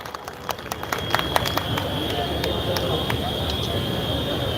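An audience claps to welcome a speaker to the mic, a steady wash of applause with sharp, scattered claps standing out, while a voice speaks over it.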